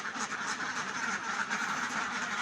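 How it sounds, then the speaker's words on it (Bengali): Ducks quacking in a dense, continuous chorus, many birds calling at once at a steady, fairly loud level. "তো দেখেন হাঁসগুলো কিন্তু সব সুন্দরভাবে বেরিয়ে যাইতেছে"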